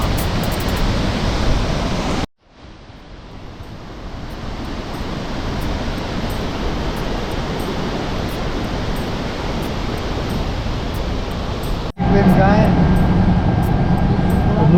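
Nuranang Falls in Arunachal Pradesh roars as a loud, dense, continuous rush of falling water. It breaks off briefly twice, then resumes at full force, with no voice over it.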